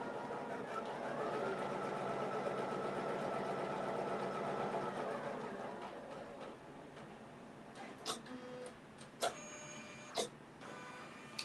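A home embroidery machine stitches out a mug rug, giving a steady mechanical whirring hum for several seconds that stops, followed by a few brief clicks and taps.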